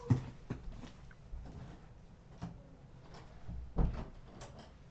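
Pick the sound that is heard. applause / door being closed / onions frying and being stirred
door being closed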